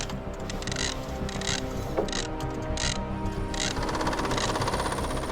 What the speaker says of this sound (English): They're sawing and cutting away around the floorboard to relieve the pressure on his legs